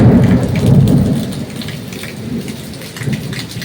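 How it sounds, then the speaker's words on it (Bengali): Heavy rain pours down steadily during a storm, with deep rumbles of thunder rolling underneath; the roar swells loudest early on, then eases slightly while staying continuous throughout. "মেঘ ডাকছে, তেমনি বৃষ্টি সারাদিন আজকে হচ্ছে"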